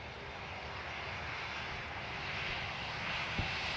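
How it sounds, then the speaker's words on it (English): A Spanish Air Force Cessna light aircraft passing overhead near Dublin Airport, a faint, steady engine drone that swells slightly as it continues. "Cessna just passed over Valley Bowden."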